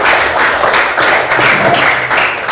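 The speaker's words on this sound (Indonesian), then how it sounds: "kita berikan tepuk tangan untuk kita semua" A classroom of students claps together, a dense, steady patter of applause that holds at full strength for a couple of seconds without pause.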